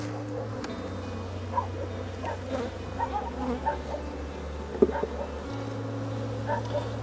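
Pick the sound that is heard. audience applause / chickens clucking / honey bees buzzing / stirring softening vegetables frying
honey bees buzzing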